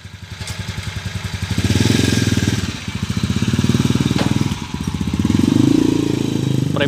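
A motorcycle runs on a test ride after a 5-speed gearbox conversion, its engine pulsing close and loud, rising and dropping with each gear change.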